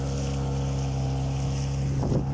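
A homemade-propeller motorboat engine drones steadily at close range, with water and wind noise washing around it throughout.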